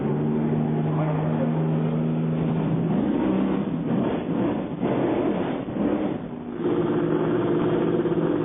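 Le Mans race cars at 1999 qualifying, a BMW followed by Toyotas, open-top Audis and Mercedes, pulling away with a steady engine drone that rises and shifts as they pass, under a narrator's voice.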